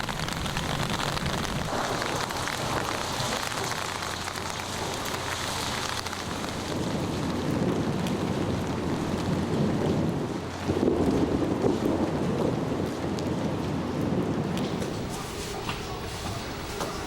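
Steady rain beats down during a thunderstorm in Houston, a dense continuous wash of noise with low rumbling underneath and no voices.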